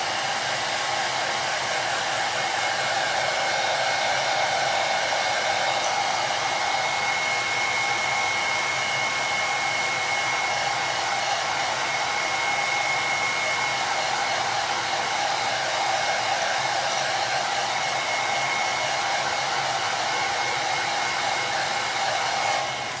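A cheap hair dryer running on high heat to dry and heat-set paint on a bluegill-pattern fishing bait, a steady continuous whoosh and whine held close and loud for the whole stretch, with no talking.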